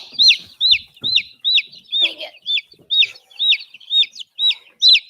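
Young laying hens and heavy-breed chicks in a brooder give a steady run of bright, repeated chirping peeps about twice a second, close and clear, with faint low shuffling underneath.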